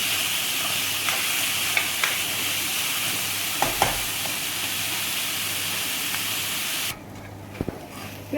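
Onions and tomatoes fry in a pan for a soyabean roll recipe, a continuous close hiss and sizzle that suddenly drops much quieter near the end, with a few faint clicks.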